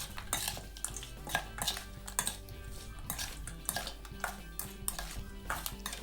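Utensils clink and scrape rhythmically against a bowl as spicy Thai gourami fish salad is tossed and mixed, with repeated sharp taps over a low steady background hum.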